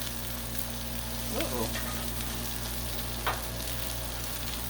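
An egg frying on a Blackstone griddle gives a steady, close sizzle and crackle throughout, with a few brief louder pops and scrapes partway through; no one speaks.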